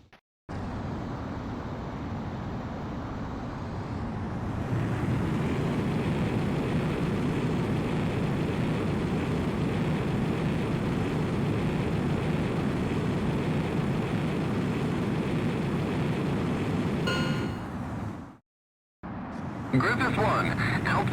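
Jet fighter engines roar on the runway during a takeoff in Ace Combat X, a loud steady broadband rush that swells after a few seconds, holds for a long stretch, then cuts out abruptly before resuming.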